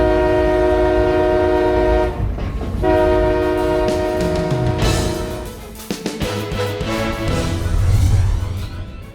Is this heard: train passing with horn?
yes